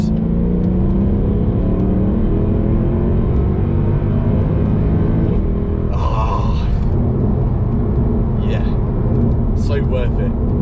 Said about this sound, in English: Always have to redline it all the way to the top to get that amazing upshift crack with the exhaust.